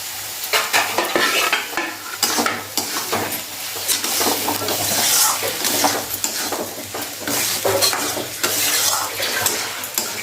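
Chopped tomato hits a hot pan of matar paneer, setting off a steady, close sizzle with frequent stirring scrapes and light clinks of utensil on metal across the whole stretch, with no talk.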